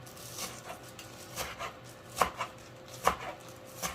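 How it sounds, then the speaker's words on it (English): A knife chops bunched cilantro on a board in thin slices, irregular crisp close taps with two sharper louder strikes, fairly quiet overall with no talking. "then you just start chopping real thin like that"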